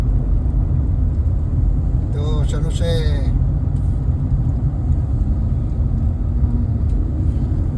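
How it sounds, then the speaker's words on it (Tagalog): Busy road traffic in San Jose, California, a steady dense rumble of many passing cars that fills the background while someone talks over it. "Daming sasakyan."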